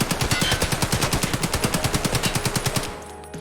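An AKM rifle in a video game fires one sustained full-auto burst of about twenty-five evenly spaced, loud, close shots, then cuts off into a short fading tail.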